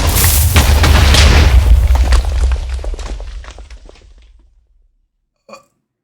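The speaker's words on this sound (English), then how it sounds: "But we can get rid of the TNT." A TNT block blows up in Minecraft: one loud, broadband boom that rolls off and decays over about four seconds, followed by a brief faint pop.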